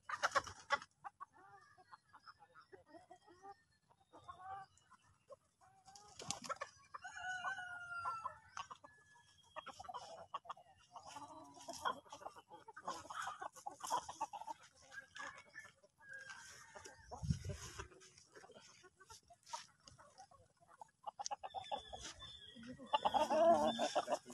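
Isa Brown hens clucking steadily in a coop, with occasional rooster crows and a low voice speaking softly at times.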